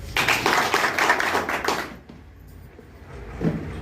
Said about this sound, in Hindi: एक बार ताली हो जाए सर।